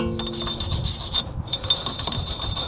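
Steady scrubbing and rasping against the surface of a removed Nissan 350Z brake rotor, close and continuous with small clinks mixed in and no one speaking.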